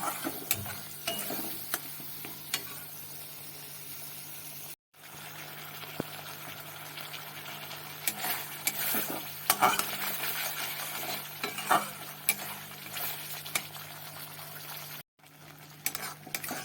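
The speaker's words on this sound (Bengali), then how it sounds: "এবার এগুলো সব আস্তে আস্তে কষিয়ে নেব" Spice paste of ground cashew, poppy seed and melon seed being slowly sautéed in a pan with a splash of water, giving a steady low sizzle with frequent scraping stirs of a spoon and two brief cut-outs.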